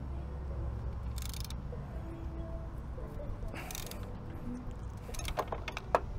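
A socket wrench tightens a knife blade battery switch on a car's battery terminal, giving a few short bursts of ratcheting clicks and metallic clatter over a low steady hum, fairly close by.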